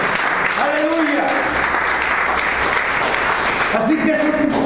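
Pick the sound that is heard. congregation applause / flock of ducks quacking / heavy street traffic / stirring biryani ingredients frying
congregation applause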